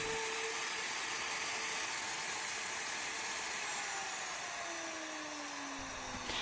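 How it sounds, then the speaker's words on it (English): Plunge router cutting a mortise guided by a template jig, a loud, steady, high-pitched whine held close and continuous, with slight pitch shifts as the cut moves around. "we'll do our cut, our final cut around to clear it out."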